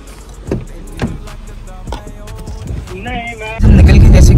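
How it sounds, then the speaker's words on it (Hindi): A car engine starting up after clicks and door sounds inside the vehicle, a brief whirring crank followed by a loud steady rumble, with people talking nearby. "अंकल ने गाड़ी स्टार्ट कर ली है"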